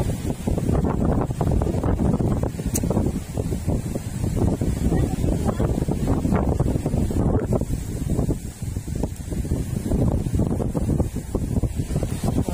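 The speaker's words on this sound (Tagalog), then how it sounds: "Grabe yung hangin." Strong wind roars and buffets the microphone continuously, with gusts rising and falling throughout.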